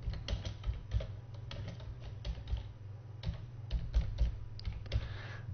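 Rapid typing on a computer keyboard, a steady run of close, crisp key clicks with no talking over it.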